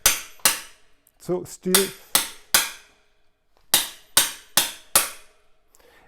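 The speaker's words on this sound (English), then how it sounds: "So therefore I just hammer it down, and I always check if the tool is still loose or not." Sharp metallic hammer blows driving a star nut into a bicycle A-headset steerer, eleven strikes in two uneven bursts, close and loud, with a brief voice partway through.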